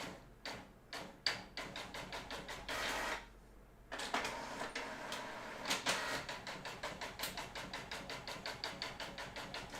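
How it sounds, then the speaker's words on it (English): Rapid mechanical printing in a series of sharp, regular clicks and clacks, pausing briefly before resuming in a steady stuttering rhythm, close and moderately loud with no talk. "Whose name made the printer go like that?"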